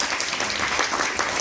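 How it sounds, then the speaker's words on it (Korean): An audience at a public testimony event applauds in a steady, even wash of many hands clapping, close and continuous for a brief moment. "박수 드리겠습니다."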